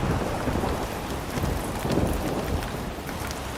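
Heavy rain pours down steadily while low thunder rumbles beneath it, a dense, continuous downpour with no talking.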